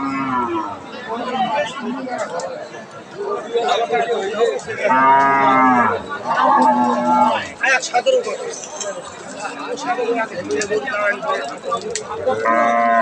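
A cow moos loudly several times, long low calls rising over a crowd of people chattering nearby at the Aftabganj cattle market in Dinajpur.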